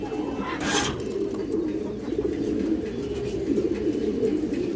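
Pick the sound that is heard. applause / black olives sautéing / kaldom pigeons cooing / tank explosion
kaldom pigeons cooing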